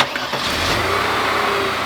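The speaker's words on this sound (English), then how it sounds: "Started up a lot easier when we rev it up" An old fuel-injected car engine revs after a mixture adjustment, a close, loud, rising roar that holds steady through the short stretch with no talk.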